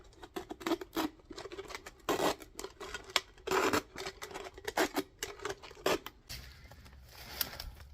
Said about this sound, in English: I'm going to slice along this edge and leave myself a tail to get the Cordage Tool started.